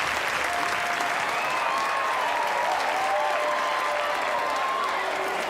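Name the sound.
audience applause for performers on stage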